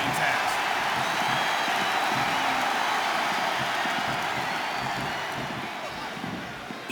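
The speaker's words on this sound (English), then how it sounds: "I love hearing the crowd come alive" Wrestling arena crowd at an Undertaker vs Great Khali match, a continuous loud wash of cheering and shouting that stays thick throughout and eases slightly near the end.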